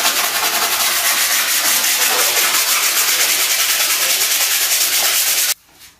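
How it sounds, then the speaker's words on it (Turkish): Steady, loud abrasive rubbing of sandpaper across a surface during a village house renovation, continuous for several seconds before stopping abruptly near the end. "Evet, zımpara işi bitti."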